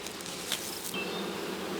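Honey bees buzz around a beehive in a steady close drone, with a few individual bees passing near.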